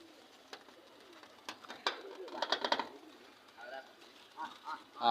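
Pigeons in a loft give a few scattered soft coos and wing flutters, with brief bursts of activity between quieter stretches.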